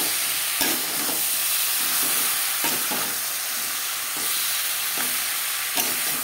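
Fried spices sizzle and hiss steadily in a hot pan with little oil for a fish curry while a utensil scrapes and stirs at a regular pace, close up, with no talking.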